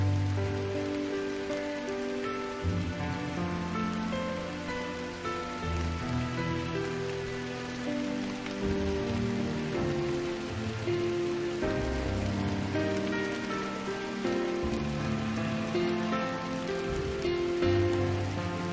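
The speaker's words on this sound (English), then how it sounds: "I woke to a morning of light drizzle" Light drizzle falls in the video game Drizzlepath, a soft continuous patter of raindrops on surfaces beneath a low ambient musical drone, steady throughout.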